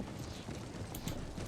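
Horses of a horse archer unit move across the battlefield in Empire: Total War, a steady patter of hooves clip-clopping at a distance, faint and continuous with no voices.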